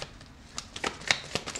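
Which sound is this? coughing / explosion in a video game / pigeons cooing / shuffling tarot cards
shuffling tarot cards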